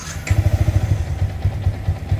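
A Yamaha Vixion motorcycle engine idling through its standard exhaust, a close, soft, steady low putter with an even pulsing rhythm and no voices.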